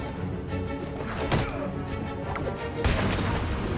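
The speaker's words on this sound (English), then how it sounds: "Drop attack" A drop attack in the video game Batman: Arkham City: a heavy thudding impact lands just before the midpoint, with another forceful crashing hit near the end over a steady rumbling game backdrop.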